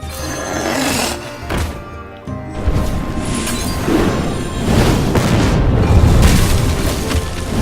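Fireball and Fire Blast spells cast in the Hearthstone video game, a run of loud, deep booming impacts and fiery bursts layered with game effects, sustained and dense throughout.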